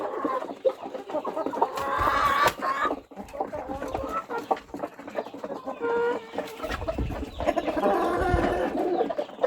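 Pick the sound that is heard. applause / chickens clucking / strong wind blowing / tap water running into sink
chickens clucking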